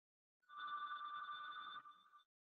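A phone rings once in a quiet room: a single electronic trill of about two seconds that is moderately faint, with a short stutter before it stops and silence on either side.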